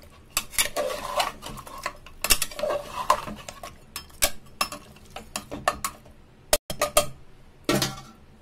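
Metal spoon stirring spiced, whipped yogurt into roasted mutton in a pot for mutton korma, giving irregular close scrapes and sharp clinks against the pot with short pauses and no talking.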